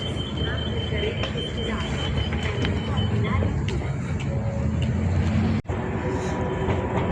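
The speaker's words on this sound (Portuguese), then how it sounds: "Temos aqui metro." A metro train rolls past in Florence, a steady rumbling rush with faint rail clatter that stays loud throughout, while people talk nearby.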